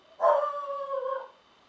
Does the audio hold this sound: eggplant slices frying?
no